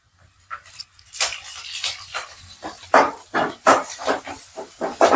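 Ground ginger, garlic and chili paste with curry leaves sizzling in hot oil, a hissing, crackling spatter that comes in uneven surges and grows louder and denser toward the end.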